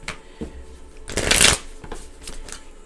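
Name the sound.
shuffling tarot cards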